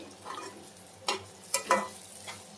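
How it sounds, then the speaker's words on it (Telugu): Bitter gourd fries uncovered in an open pan, a low gentle sizzle with three or four brief scraping stirs of a spatula, close and quiet, no speech. "ఇలా ఫ్రై చేసుకుంటేనే బాగుంటుందని చెప్పేసి"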